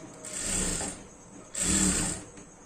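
A sewing machine stitches a long frock in two short bursts of whirring, each lasting under a second, with a brief quieter gap between them. The machine is close and fairly loud, and there is no talk.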